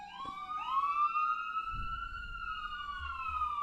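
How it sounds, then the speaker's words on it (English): A police siren wails nearby on a busy street in a long rising and falling tone, with low traffic rumble underneath. "sirens."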